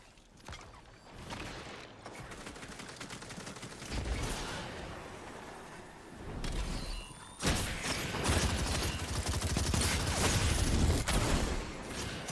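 Explosions and heavy gunfire from a multiplayer shooter video game, with a grenade blast among dense, loud, continuous battle noise and a sharp burst of impact about midway.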